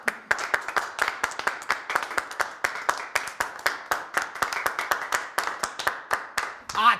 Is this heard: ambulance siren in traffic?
no